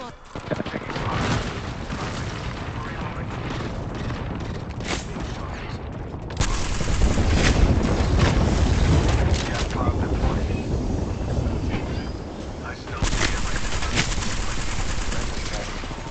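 Heavy automatic gunfire in the game Apex Legends, continuous loud bursts of shots that swell in two stronger waves, with a player's voice talking over the fighting.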